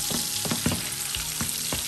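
Koi fish fry in hot oil with a continuous loud sizzle, broken by regular soft thuds and stirring scrapes about every quarter second. No one speaks.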